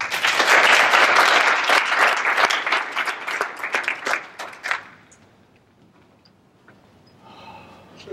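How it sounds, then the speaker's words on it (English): A crowd applauds loudly with dense clapping that tapers off after about five seconds, leaving a quiet room with faint scattered noise. "but a round of applause for Lee Holkum"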